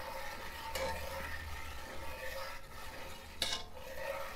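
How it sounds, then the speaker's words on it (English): Milk for a trifle custard is stirred slowly in a pan, giving a faint, steady swirling hiss with a couple of light clinks of utensil against metal. "Slow stirring."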